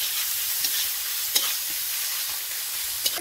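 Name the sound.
ginger garlic paste, dried chilli and onion paste frying in a pan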